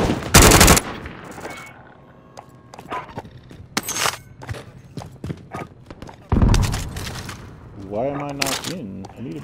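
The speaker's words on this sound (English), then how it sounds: "Shooting people." Video game gunfire in loud close bursts, a heavy volley at the start and another later, with scattered single shots and clattering between them; people talk over the action.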